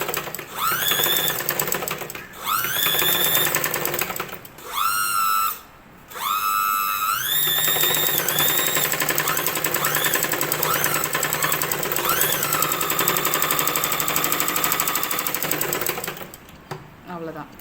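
A sewing machine stitches the back piece of a blouse slowly along a curve, a fast continuous whirring clatter that stops and restarts a few times, with someone talking over it.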